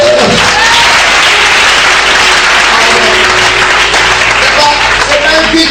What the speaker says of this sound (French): Je peux vous sentir acclamer le Seigneur